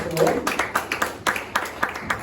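High school students applauding at a church service as classmates come to the front, a short burst of irregular handclaps from a small group, close and moderately loud, with a voice speaking alongside.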